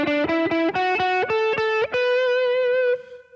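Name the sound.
gospel guitar walk-up lick, doubling each note up the scale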